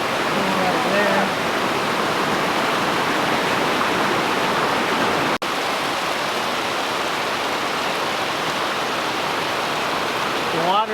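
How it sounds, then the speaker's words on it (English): Steady, loud roar of hot spring water tumbling over a series of small falls into pools, broad and continuous with no break, a brief voice faintly audible near the start. "Just a series of falls and pools"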